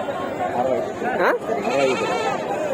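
A goat at a crowded livestock market bleats in wavering, quivering calls that rise and fall, mixed into a dense background of voices and market chatter.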